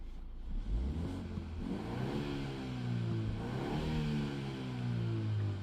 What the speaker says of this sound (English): so now let's open the valves and rev.